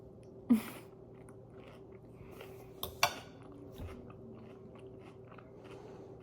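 Someone takes a mixed bite of cottage cheese, avocado, cucumber and beef sausage at dinner and chews it. The chewing is faint and close, with a couple of crisp clicks and soft crunches over quiet background hum.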